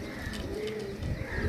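Domestic pigeon of a breeding pair giving soft, low cooing calls, faint and continuous against quiet background noise.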